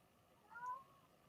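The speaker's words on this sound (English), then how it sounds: "if you hear a meow, that's my big cat" A single soft cat meow, brief and faint, rising and falling over a quiet background.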